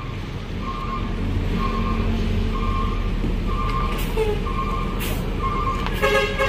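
A bus pulls into a terminal with steady, evenly spaced reversing beeps sounding over a loud, continuous engine rumble. A few brief honks and clatters come near the end.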